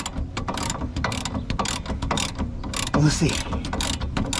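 A ratchet clicks rapidly and steadily, close by, while tightening a bolt on the driver side rear strut of a 2013 Mini, with a brief spoken remark partway through.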